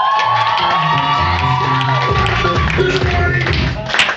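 An audience bursts into applause and cheering to welcome a college deputy director, loud sustained clapping with whoops and crowd noise filling the hall throughout.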